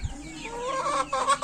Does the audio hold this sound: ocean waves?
no